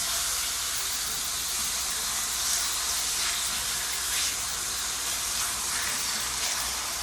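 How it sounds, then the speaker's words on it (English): Seasoned sirloin steak sizzling in a hot skillet, a steady broad hiss of frying that runs continuously and fairly loud, with no voices. "we are gonna put this in our skillet."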